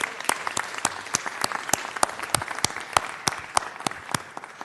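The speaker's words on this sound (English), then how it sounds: "Let's give them a big round of applause." Applause breaks out from an audience at a city council meeting, a dense, steady patter of many hands clapping at close range for several seconds.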